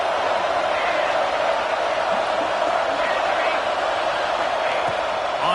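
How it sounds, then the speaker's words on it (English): Home crowd cheering at a football game in a video game, a loud, steady roar of stadium noise filling the whole stretch without letup. "Man, this crowd really affecting the football game."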